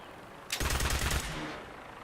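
A weapon in the heavily modded video game Fallout 4 fires one short, loud burst of rapid automatic shots. Quiet ambience comes before it and the sound fades afterward.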